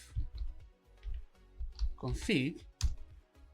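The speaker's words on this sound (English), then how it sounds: "I can do that by typing ifconfig" Keys tapped on a computer keyboard while entering a network command, a short run of close, quick clicks under a voice that talks over part of it.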